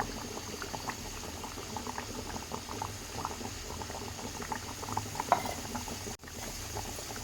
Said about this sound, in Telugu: చేపల పులుసు ఎలా మసులుతుందో